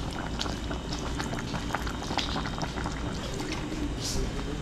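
A pot of liquid boils hard, steady rough bubbling up close, with small splashes as vinegar is added; the roiling stays continuous throughout.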